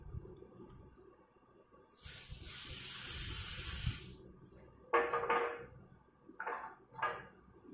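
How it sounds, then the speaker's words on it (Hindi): A Modicare deodorant body spray gives a loud, steady two-second hiss, followed by several shorter, sharper spray bursts close to the microphone. "और दूसरा जो है ये मोदीकेयर का है उसके ऊपर भी मैं स्प्रे करूँगा।"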